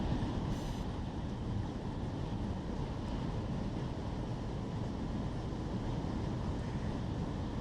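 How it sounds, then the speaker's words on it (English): Freight train with container cars rolling along in the Run 8 train simulator game, a steady, continuous low rumble and rail roar that stays even throughout, with no talk over it. "So while this train is making its way towards the city of Industry"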